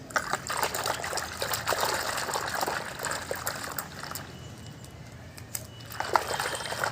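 Warm water is poured into a basin for a foot soak with shampoo, a continuous soft trickling and splashing stream that carries on steadily throughout, fairly quiet and alone.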